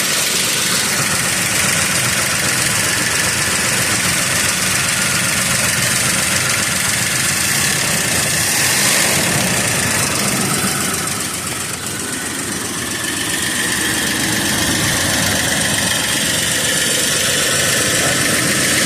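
A 1962 Chrysler Imperial engine runs at idle, a loud, steady rumbling drone with a faint rhythmic ticking throughout and a brief dip in level partway through, heard close and with no talking.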